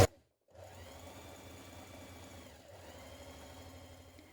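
A sewing machine runs steadily while stay stitching down the front V of a dress neckline, about 6mm from the raw edge, with a brief pause near the start and a smooth continuous motor whir close by, no voices.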